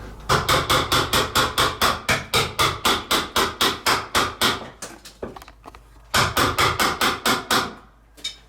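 Shims being hammered in while a beam is readjusted: a fast, steady run of sharp, loud blows, a brief pause with a few scattered knocks, then another quick burst of strikes.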